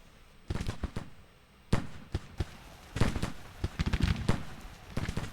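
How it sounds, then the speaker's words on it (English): Troops firing musket volleys in a Civil War strategy game: scattered sharp cracks and pops arriving in irregular clusters, some close and loud, others fainter, with brief gaps between bursts. "Now you're firing, Blanchard."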